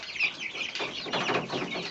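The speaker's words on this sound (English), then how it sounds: "And these are fluffy chickens." Three-week-old fluffy chickens cluck and chirp softly nearby, a steady cluster of small, high, overlapping calls.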